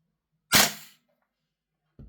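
A VFC L403A1 airsoft gun fires once through a chronograph, a sharp close crack that decays quickly, followed after a pause by a short faint thump.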